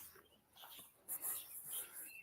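Puppies at a campsite beside a lake whimper faintly in short, high squeaks that rise and fall over a quiet, steady background.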